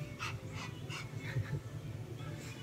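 A child makes yipping, panting puppy noises in a quick series of short bursts, a human voice imitating a small dog.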